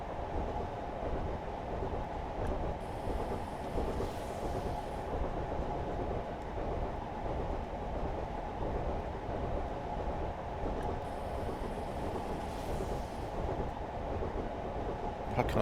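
A train in a train simulator game rolls over track with a steady, loud, unbroken rumble of wheels and carriages that holds for the whole stretch, with only faint hints of rhythmic clatter.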